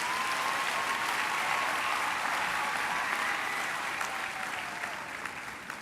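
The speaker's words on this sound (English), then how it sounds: "Another round of applause to Prof." A large audience applauds at a university graduation ceremony: dense, continuous clapping that holds steady and eases slightly toward the end.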